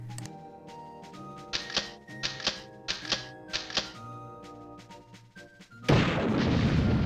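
Bazooka shots fire and explode in Army Men Sarge's Heroes 2, a run of punchy thuds over game music that ends in a loud, sustained blast.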